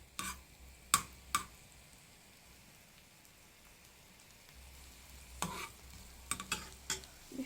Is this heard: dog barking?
no